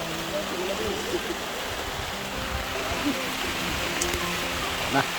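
Steady rain pours down over a farm field outdoors, a dense continuous wash of falling water with faint voices and a few brief knocks nearby.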